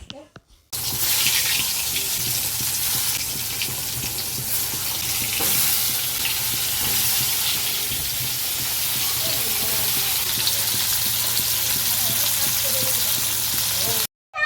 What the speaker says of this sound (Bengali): তারপর কড়াইতে তেল গরম করে নিয়েছিলাম তার মধ্যে পটলগুলো এক এক করে ছেড়ে দেবো